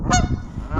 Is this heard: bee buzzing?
no